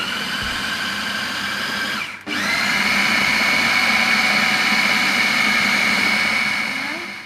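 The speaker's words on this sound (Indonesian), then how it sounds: "Kita giling lagi sampai dia benar-benar halus teman-teman." An electric meat grinder loudly churns meat mixed with salt for meatball paste, a steady close motor whine that dips briefly and then resumes at full strength.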